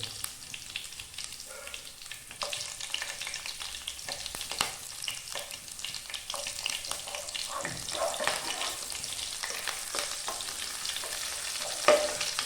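Ingredients for a coconut chicken curry, with cumin seeds just added, sizzle steadily in a pan while a spoon stirs them, giving scattered scraping clicks over the continuous frying hiss, close and quiet.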